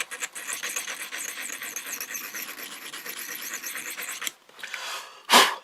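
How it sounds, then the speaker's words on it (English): A Swiss Army knife blade is drawn over a small sharpening stone of unknown grit, giving steady close scraping strokes that run continuously, then a short pause and one sharp final scrape; no one speaks. "that's how I sharpen my Swiss Army knife if I'm out somewhere"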